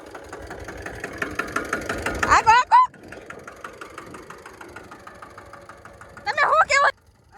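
A tractor engine runs steadily with a rhythmic chugging, revving louder in two short bursts as the tractor's front rears up, while people talk over it.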